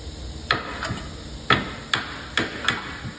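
Five sharp metallic hammer taps on a lower control arm ball joint stud of a 2010-2013 Kia Soul, at uneven intervals, close by, over a steady background hum.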